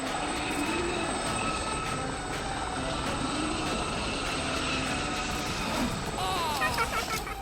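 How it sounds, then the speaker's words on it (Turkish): A continuous mechanical whirring drone with a rhythmic chopping beat of a cartoon helicopter rotor, loud and steady throughout. "helikopter pervanesi"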